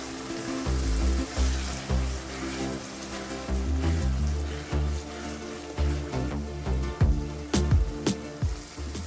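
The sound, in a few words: matar paneer gravy cooking while being stirred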